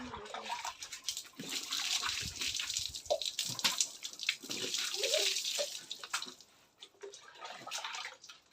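Water sloshes and pours from a bucket during a household cleaning session, with irregular splashing bursts that rise and fall over several seconds, fairly close and without talk.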